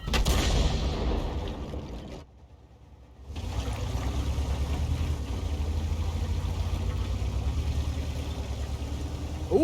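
A tank cannon fires in a tank video game, a loud broad blast right at the start that fades into a brief lull before a steady engine rumble carries on to the end.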